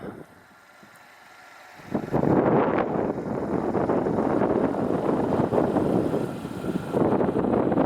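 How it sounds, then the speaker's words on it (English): Strong wind sweeping across flat prairie in southern Alberta buffets the microphone, a quiet start giving way to loud, rumbling, continuous gusts that roar on for several seconds without talk. "Sorry about the wind, guys."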